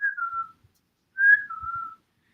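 A person whistles to call a cat: two short tonal whistles, the first brief and the second a longer two-note call, close and clear in a quiet room.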